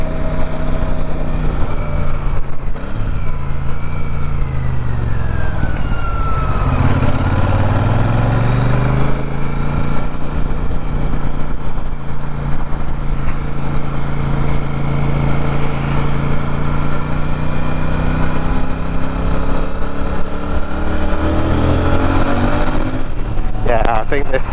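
A Royal Enfield Super Meteor 650 twin-cylinder motorcycle rides with a slipper clutch. The engine drones close and loud, with its pitch sliding down on downshifts and climbing again as it accelerates.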